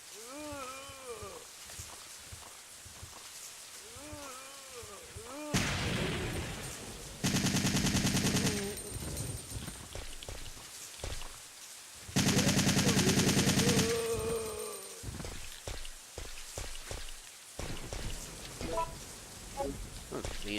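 Gunfire aimed at zombies in Resident Evil 3: Nemesis, with two sustained loud bursts of rapid automatic fire, each lasting about two seconds, separated by quieter game noise, and someone talking before and between them.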